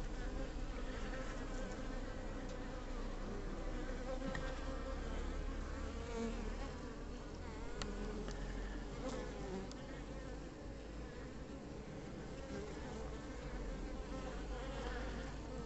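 Honeybees swarming around a hive produce a dense, steady, close buzzing drone that continues unbroken throughout, with individual bees flying past now and then.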